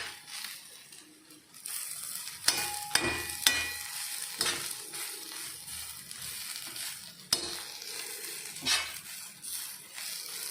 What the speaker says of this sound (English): Let the masala roast nicely till you get that